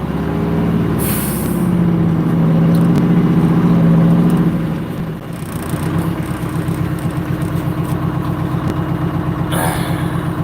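A twin-turbo car engine rumbles steadily at close range while reversing, with a hiss of air partway through and a low, even idle pulse afterward.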